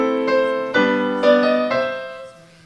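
Solo piano plays an earlier version of a Scott Joplin ragtime piece, chords struck at a steady, lilting pace, sustained tones ringing between strikes, played alone with no voices.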